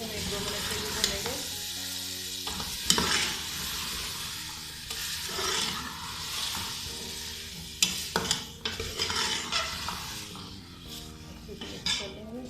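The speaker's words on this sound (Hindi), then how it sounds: "इसको भी हम 1-2 मिनट के लिए भूनेंगे।" Chopped turnip vegetable frying in a pan with softened tomato and oil, stirred with a spoon; steady sizzle with intermittent scraping and clinks against the pan, close and moderately loud, with soft music in the background.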